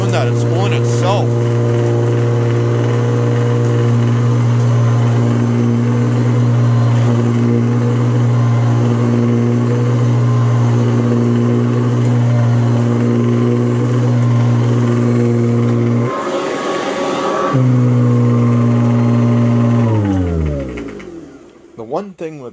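A Hoover CH50020 commercial upright vacuum cleaner runs loud and close with a steady motor drone, briefly dips and changes tone, then spins down to silence.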